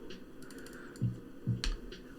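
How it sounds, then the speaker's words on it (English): A few scattered key presses on a computer keyboard's numpad, fitted with GMK Belafonte keycaps, land as soft clicks and dull thuds, close and fairly quiet, with no talking. "I mispressed some things on my keyboard, on my numpad."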